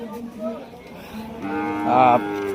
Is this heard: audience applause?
no